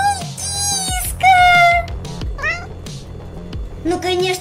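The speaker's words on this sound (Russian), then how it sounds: "Ой, опять кошка мяукает." A cat meows loudly and close by, a rapid series of rising and falling yowls and short mews with brief pauses between them, heard alone without talk.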